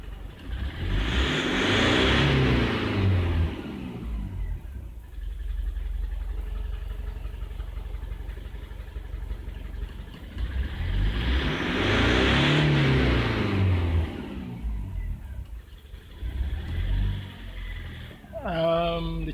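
A Toyota Land Cruiser Prado with a lumpy-running engine revs up twice to higher RPM, each surge rising loud and then falling back toward idle, with a steady engine rumble in between.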